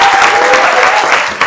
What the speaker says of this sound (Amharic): መጀመሪያ አድንቆት አጨብጭቡ።